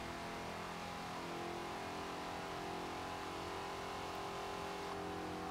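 A Holden or Ford ute roars through a drag race in Forza Horizon 3, its engine revving loud and continuous for several seconds with a steady droning tone, close up and free of talk.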